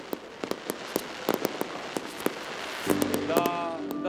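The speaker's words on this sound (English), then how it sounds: "thousands of people gathered on the waterfront to ring in the new year with a spectacular fireworks display of their own" New Year's Eve fireworks over the Split waterfront crack and pop in a rapid, irregular series of sharp bursts, with a crowd murmuring beneath. Louder, denser explosions and whistling tones follow toward the end.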